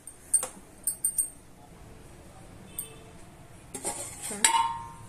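A spoon stirs dal with curry leaves and coriander in a metal pot, giving scattered metallic clinks and scrapes, a few sharp taps early and a louder clattering burst near the end, with no voices.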